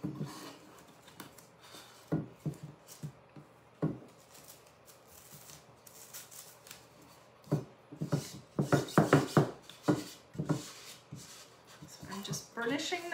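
Transfers are burnished down onto paper with repeated scratchy rubbing strokes, soft and close, coming in uneven bursts with a denser flurry in the later half.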